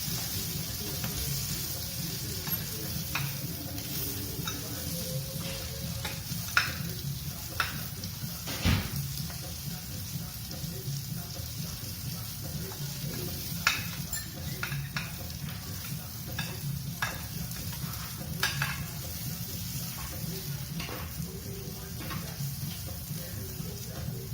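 Asparagus, spaghetti squash and broccoli sizzling softly in a pan while being stirred, with scattered scraping clicks of the utensil over a faint continuous fry.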